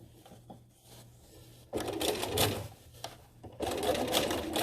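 A sewing machine runs a straight top stitch along drape seams, with two sustained bursts of close, steady mechanical whirring separated by a brief pause.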